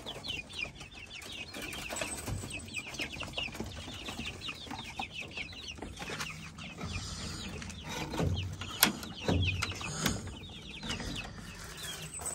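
Turkeys and other farm fowl call continuously in a busy yard, with overlapping clucks and chirps at close range and a few louder bursts; no one speaks.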